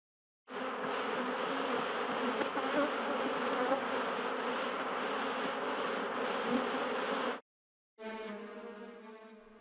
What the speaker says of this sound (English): Swarms are a normal occurrence during the lifespan of a colony